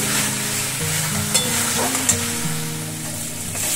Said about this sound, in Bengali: আলুর সাথে একটু কষিয়ে